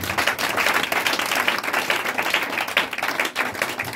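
A church congregation breaks into lively applause, many hands clapping together in a dense, steady burst that fills the room.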